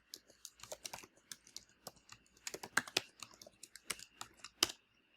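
Code being typed on a computer keyboard, with irregular bursts of crisp key clicks and clacks, some spaced and some in quick runs, close and fairly quiet, with no talking.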